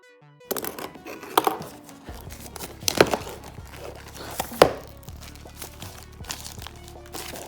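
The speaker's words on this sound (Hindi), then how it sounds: "इस पॉलीथीन को हम रखते हैं साइड में" Polythene plastic wrapping crinkling and rustling close up while a microphone is unboxed, irregular crackles with several sharper crunches and handling noises.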